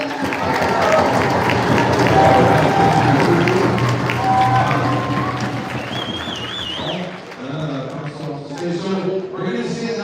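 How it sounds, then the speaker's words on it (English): Crowd applause and cheering welcoming guests at a powwow performance, loud and busy at first, then thinning as voices and singing take over. "So let's everyone give them a round of applause and welcome them."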